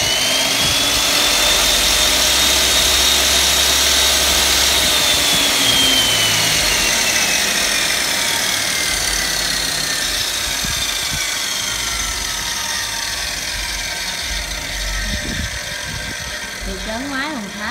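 A Japanese-market Hitachi H-12A metal cut-off saw, 100 V with a 305 mm blade, runs with no load in a continuous loud motor whine whose pitch slowly falls as it spins down, with voices faintly under it.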